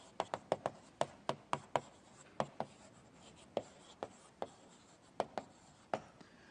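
Chalk tapping and scratching on a lecture board as words are written, a quick series of crisp, close strokes in an irregular rhythm, alone in a quiet room.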